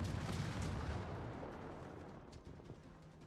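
Naval gunfire from the video game World of Warships: a faint, broad booming rumble that rolls on continuously and slowly fades, with a few soft thuds near the end.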